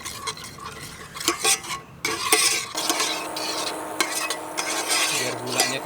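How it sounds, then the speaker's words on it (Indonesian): A spoon stirs barbecue sauce with chili powder, salt, black pepper and honey in a pan, scraping and clinking in a continuous rhythm over a light sizzle, heard close with no talking. "Ini kita aduk aja."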